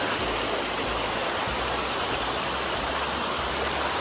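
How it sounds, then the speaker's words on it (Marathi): Water flows steadily in a village stream in the Konkan countryside, a constant, full rushing wash with no pauses, close and fairly loud. "पाणी बरा व्हाळात."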